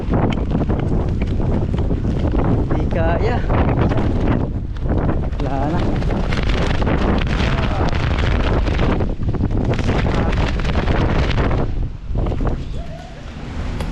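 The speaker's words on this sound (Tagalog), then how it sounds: "ang lakas ng hangin" Strong wind in New Zealand batters the microphone in a loud, continuous roar with gusty surges, while a voice speaks briefly under it.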